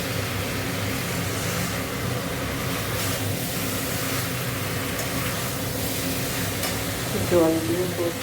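Food being stir-fried with spices in hot oil, a constant close sizzle with stirring scrapes throughout and a brief louder scrape near the end.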